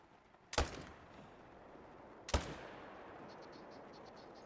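Two sharp hunting rifle shots in theHunter: Call of the Wild, set in Scotland, about two seconds apart, each a loud crack with a short fading tail over quiet outdoor ambience and faint insect buzzing.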